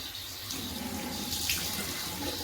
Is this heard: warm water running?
yes